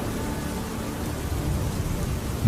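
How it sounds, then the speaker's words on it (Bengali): Steady cartoon rain falls in a dense, even wash, loud and close, with a low rumble like distant thunder underneath and no voices. "মেঘ, তুমি এবার তোমার বৃষ্টি দেওয়া বন্ধ করো"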